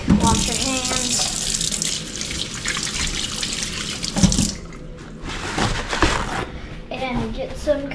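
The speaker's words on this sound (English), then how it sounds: "After you crack the egg, wash your hands." Tap water runs continuously into a kitchen sink as hands are washed after cracking an egg for beef Wellington, a splashy, close wash with voices, including a child's, talking over it.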